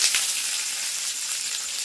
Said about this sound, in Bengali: দিয়ে পেঁয়াজটা একটু ভাজা ভাজা করে নেব।